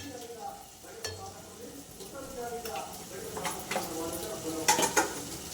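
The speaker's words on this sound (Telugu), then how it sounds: "మళ్ళీ ఇంకొంచెంసేపు నేను మూత పెట్టుకొని ఇంకొంచెం ఫ్రై చేసుకుందాం." Chicken curry frying in a pan, with a low sizzle under stirring and the occasional clink of a utensil against metal, while a person talks over it.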